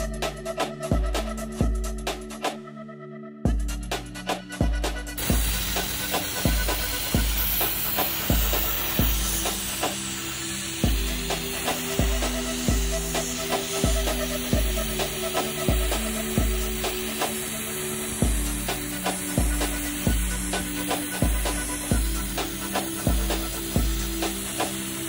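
A 600 by 400 mm wooden workpiece is sandblasted with number 46 aluminum oxide grit at 90 psi, a loud continuous hissing blast broken by a brief cut-off and an irregular rhythmic knocking underneath throughout.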